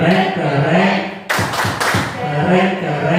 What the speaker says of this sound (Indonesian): Kita kasih tepuk keren sama Pak Tarabul.